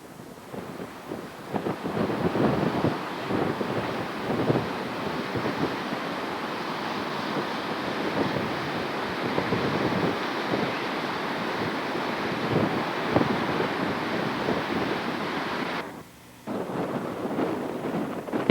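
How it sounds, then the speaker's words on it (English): Brook water rushes through a road culvert in heavy flow, a continuous broadband roar like surf, heard from outdoors with wind buffeting the microphone and a brief dip near the end. "a large amount of water is flowing through the culvert in the road."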